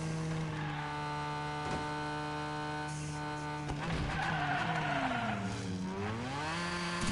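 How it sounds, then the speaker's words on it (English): Car engines whine and tires skid in the Hot Wheels Unleashed racing video game, with steady harmonic engine tones that rise and swoop as another car closes in from behind, loud and continuous throughout. "I heard a car, so somebody's right behind me"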